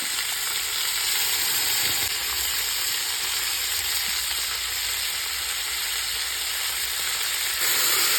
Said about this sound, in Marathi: थोडं चांगलं परतून घेऊया, बरे परतून घेऊया